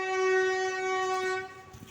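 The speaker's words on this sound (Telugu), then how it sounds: "ట్రైన్ అయితే ఖాళీగా వెళ్తుంది" A train horn sounds at a railway station as the train passes, one long steady tonal blast holding loud and near for most of the moment before easing off, with rumbling rail noise beneath.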